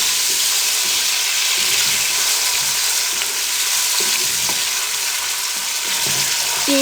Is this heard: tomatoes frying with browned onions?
yes